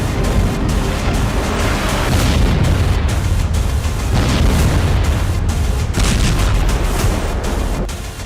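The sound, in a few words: missile explosion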